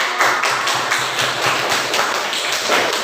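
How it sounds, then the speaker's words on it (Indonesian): A crowd claps together in a steady burst of applause, dense and fairly loud, with no voices over it. "Tepuk tangan."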